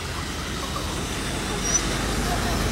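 A limousine rolls past amid steady road traffic in Monaco, engine rumble and tire noise blending into a continuous wash of street sound.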